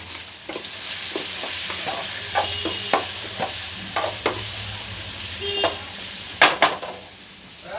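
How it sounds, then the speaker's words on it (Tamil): Onions and tomatoes fry in a pan for vada curry, giving a constant soft sizzle broken by scattered scraping taps as a spoon stirs, with a couple of sharper clinks near the end. "கூட வச்சதுனால தக்காளியும் மிக்ஸ் ஆகிட்டுருக்கு"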